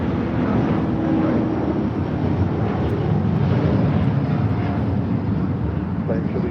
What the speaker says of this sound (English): This is Latam Airlines 603 taking off to Santiago, Chile on a 787-8 Dreamliner.